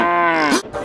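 A person's voice imitates a cow with one drawn-out, sliding moo that drops in pitch, followed by a short breathy sound.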